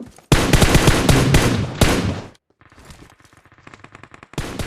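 Bursts of PUBG video game gunfire, a long loud rapid volley followed by a quieter, sparser string of shots and another loud burst at the end, with no talking.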